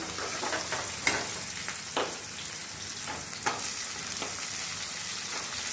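Onions frying in oil for an egg curry: a continuous close sizzle broken by scattered stirring clinks and scrapes, steady and unaccompanied by voices.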